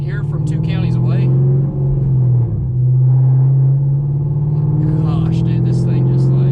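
A Camaro fitted with a Magnaflow 3-inch straight pipe exhaust idles and eases along with a loud, deep, steady rumble close by, while people talk over it.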